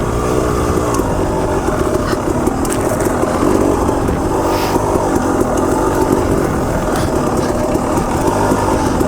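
A KTM 300 Enduro two-stroke dirt bike ridden along a wooded trail, its engine buzzing loud and close throughout with constant revving and slight pitch changes as the rider works the throttle.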